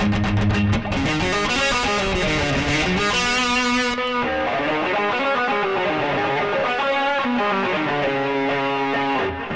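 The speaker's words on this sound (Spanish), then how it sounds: "Y le vamos a añadir overdrive." An electric guitar runs through a Jekyll & Hyde pedal with both distortion and overdrive engaged, playing a steady stream of loud, gritty chords and riffs for several seconds with no talking.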